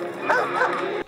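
Two dogs from the Chicken Run animated film, giving short yips and whimpering woofs amid busy movie sound, with voices talking close by.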